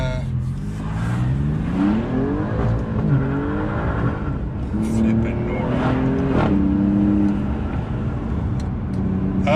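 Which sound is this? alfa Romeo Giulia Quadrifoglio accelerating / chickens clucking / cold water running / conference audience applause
alfa Romeo Giulia Quadrifoglio accelerating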